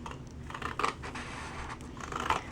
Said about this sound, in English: I'm just using regular scissors.